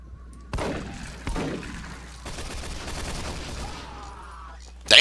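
Volleys of gunfire from a firing squad in the game SMOD Outbreak, a few loud cracks followed by dense overlapping shots and impacts, ending in a sharp close blast.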